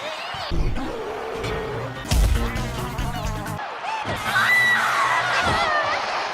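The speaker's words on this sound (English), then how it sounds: "That's Princess Peach's actual blood-curdling scream." Princess Peach lets out a loud, drawn-out scream in a Mario video game, rising over busy game sound effects, impacts and crowd-like noise.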